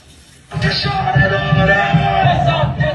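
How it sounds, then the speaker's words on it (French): A jubilant crowd of Iranian royalist demonstrators gathered from across Europe bursts into loud, sustained cheering and chanting after a brief quieter moment, dense and close with overlapping voices. "Une foule en liesse venue des 4 coins de l'Europe"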